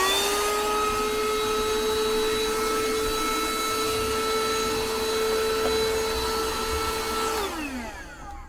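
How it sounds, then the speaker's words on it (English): A small 12-volt vacuum cleaner whines steadily at close range with a constant high-pitched motor tone, then winds down as it switches off near the end. "12-volt vacuum, isn't it lovely?"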